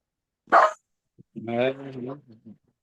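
A dog gives a sharp single bark, followed after a pause by a longer, whining bark-like yelp, close and fairly quiet.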